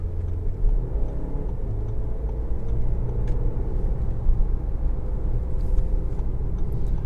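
A 2024 Audi Q5 Sportback S-line with a 205-horsepower engine accelerates in dynamic mode, heard from inside the cabin as a steady low engine and road rumble with a faint whir.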